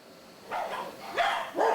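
Several dogs bark in short rising yelps, about three in quick succession, at an animal shelter in Gangneung housing abandoned dogs and cats, with a steady room hum underneath and no speech.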